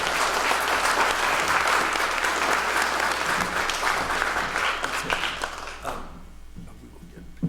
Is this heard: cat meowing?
no